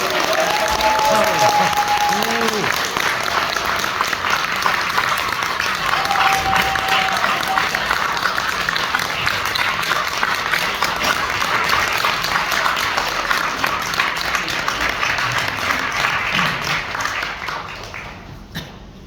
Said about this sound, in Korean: 기자님 모시면 큰 박수 부탁드립니다.